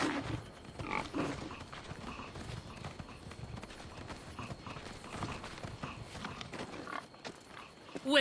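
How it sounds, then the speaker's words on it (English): Pigs in the video game Assassin's Creed Odyssey grunt and snuffle in a pen, a steady run of low, rough grunts close by with thumping, clopping bits and ambient game noise over about eight seconds. "These pigs look hungry."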